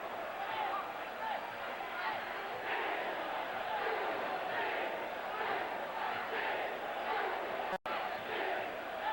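A Muay Thai crowd, Neungsiam Fairtex vs Chaichana, roars and chants in steady surging waves throughout, loud and continuous, with rising swells of cheering in reaction to knee strikes and a brief dropout near the end.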